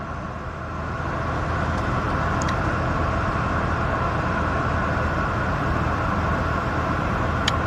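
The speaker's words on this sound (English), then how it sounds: "So many cars here." A dense, steady wash of road traffic, with cars rolling past continuously at moderate distance and no single vehicle standing out from the constant rumble.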